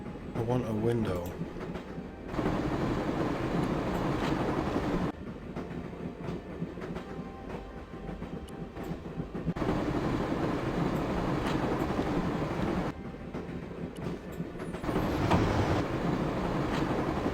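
A train moves steadily in the Broken Sword: Shadow of the Templars video game, with a loud continuous rumble and rhythmic clickety-clack that carries on throughout with brief shifts in tone.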